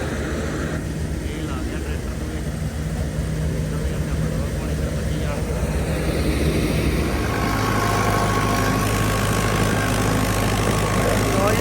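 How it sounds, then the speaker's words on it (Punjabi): A Sonalika 60 tractor engine drones steadily and grows louder and heavier as it approaches in an open field, a continuous near rumble with no pauses. "ਹੁਣ ਨਵਾਂ ਟਰੈਕਟਰ ਆਉਂਦਾ ਪਿਆ"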